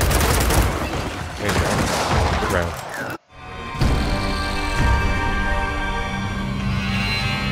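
Video game gunfire in a competitive esports match: dense, loud rapid bursts of automatic fire for about three seconds, then a sudden cut to silence, followed by more sustained shooting with ringing tones and scattered shots.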